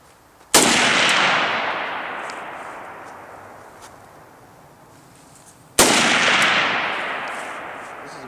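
Two sharp AK-47 rifle shots fired at bottles outdoors, each a loud crack trailing into a long echoing decay, about five seconds apart.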